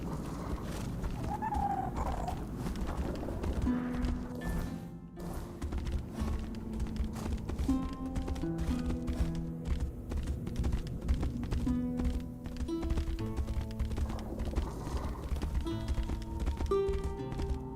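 Horse hooves clip-clop in the Tainted Grail video game, a quick irregular patter over a bed of game music and ambient birdsong, steady throughout with no speech.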